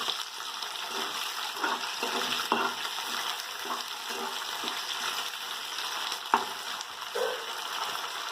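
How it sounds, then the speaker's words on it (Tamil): Onions fry in a pan for chicken biryani, salted so they soften, under a continuous close sizzle with occasional light scrapes and taps of a stirring spoon. "இப்போ இது நல்லா வெங்காயம் கொஞ்சம் வதங்கட்டும்."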